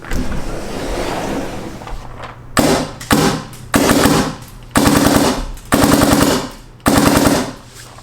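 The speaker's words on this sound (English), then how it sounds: "But these guns are just so satisfying to shoot." A vintage DSR Nasa Bolt paintball gun fires loud, close rapid bursts of sharp pops, about five strings separated by short pauses, after a low mechanical rumble and with no talking.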